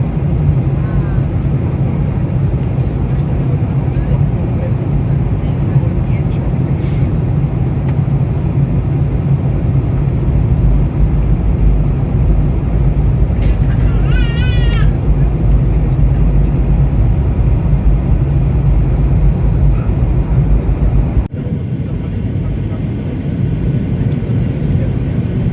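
Steady, loud cabin drone fills a Ryanair airliner in flight between Edinburgh and Dublin, a constant low roar with a brief chime partway through and a slight drop in level near the end.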